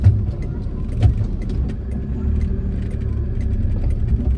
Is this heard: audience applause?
no